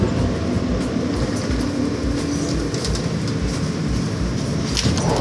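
A New York City subway train rumbles loudly and steadily at close range, with a continuous low roar of wheels on track and faint rhythmic clacks, and no talking.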